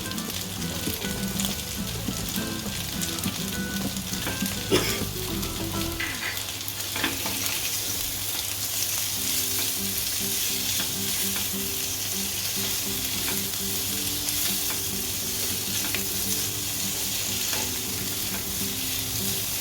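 Dum aloo frying in a pan over medium heat, with a steady close sizzle and occasional scraping stir strokes throughout, no voices.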